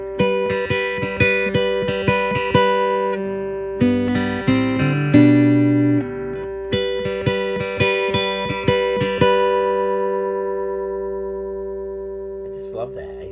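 Acoustic guitar run through an Amumu Glorifier preamp DI pedal, clear picked notes and ringing chords in a relaxed pattern, close and full-bodied, with long sustain fading out at the end.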